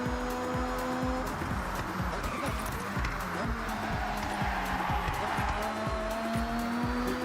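Continuous, loud engine drone and rapid gear-shift pulses from a car in the racing game Forza Horizon 6, set in Japan, with tire squeal layered over the steady revving.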